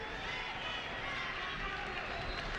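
A sparse stadium crowd at a Canada vs Venezuela football match cheers as a constant, distant wash of noise, fairly faint and unbroken throughout.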